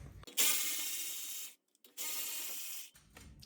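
A 13 mm ratchet wrench backs out the brake caliper bolts on a Ford F-150 front brake, its pawl buzzing in two long, loud bursts separated by a short pause.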